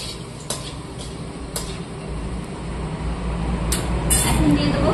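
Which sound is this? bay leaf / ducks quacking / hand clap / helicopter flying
bay leaf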